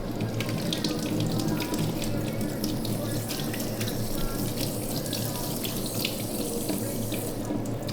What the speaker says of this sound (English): Run cold water over it